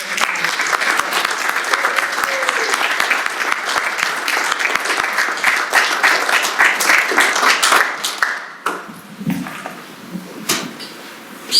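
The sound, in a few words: audience applause at a company meeting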